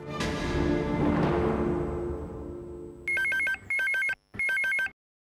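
A telephone rings in three loud electronic bursts with short gaps between them. A fading, resonant crash comes before the ringing.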